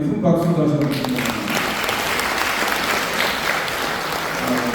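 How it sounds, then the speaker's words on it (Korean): Hotel ballroom audience at a humanities lecture applauds the lawyer who gave it, a loud, continuous spread of clapping; a voice speaks over the opening second before the applause carries on alone. "우리 최진영 변호사님한테 큰 박수 다시 한번 드립니다"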